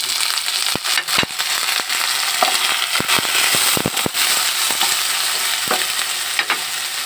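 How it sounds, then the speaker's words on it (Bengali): Onion, nigella seeds, whole dried chillies, bay leaf, potatoes and green chillies fry in hot oil, a loud continuous sizzle broken by sharp crackling pops and spatula knocks, close up with no voices. "কালো জিরা পেঁয়াজ কুচি দিয়ে একটু ভালোভাবে ভেজে নিব"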